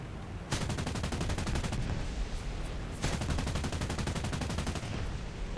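20mm aircraft cannon fire from an SM-91 attacking a tank column in War Thunder: two long bursts of rapid, loud, evenly spaced shots, close-up, over steady engine rumble.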